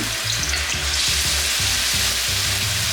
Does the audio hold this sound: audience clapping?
no